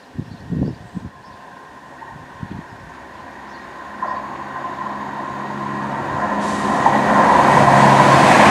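A Class 170 diesel unit approaches Saltmarshe station on a Sheffield-bound service, its engine and wheel rumble swelling steadily from faint to loud as it draws close, with a few brief knocks early on.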